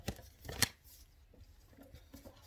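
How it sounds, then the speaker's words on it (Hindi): Tarot cards being shuffled by hand up close, a quick crisp riffling burst near the start followed by faint, quieter card rustles and handling, with no voices. "इसको थोड़ा सा शफल और कर लेते हैं।"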